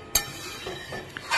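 A spoon stirs a curry in a pot after water and green chillies go in, making a faint metallic clink, a soft scrape and a brief light rattle against the metal over a quiet kitchen background.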